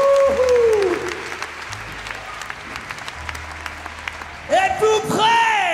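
An audience at a live show applauds the technicians and crew with steady, dense clapping, and a few whistles and shouts rise near the end.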